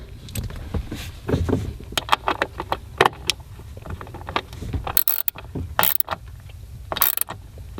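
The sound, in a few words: tightening a bolt on a Corvette nitrous kit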